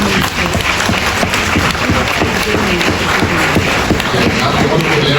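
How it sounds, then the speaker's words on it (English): An audience applauds loudly and continuously at the close of a talk on migrating to Canada to pursue law, with dense clapping throughout and faint crowd noise. "Give everyone a round of applause."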